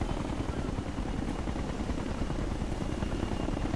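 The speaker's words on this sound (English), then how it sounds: "Okay, the chopper's here." Helicopter in the video game Ghost Recon Future Soldier, a steady loud rotor roar that holds constant throughout, close and continuous with no talking over it.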